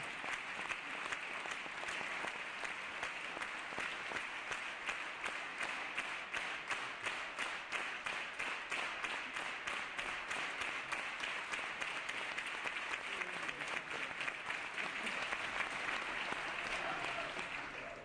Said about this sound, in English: It is a rare day when somebody can stand in this chamber and get longer applause than Willie Brown.